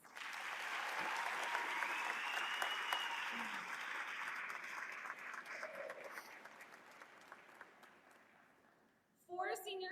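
Applause for graduates at a Class of 2026 graduation ceremony, a sustained round of clapping from the audience that swells, holds and slowly fades over several seconds, then a brief louder burst near the end.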